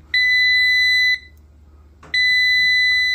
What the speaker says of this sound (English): and there's the alarm going off.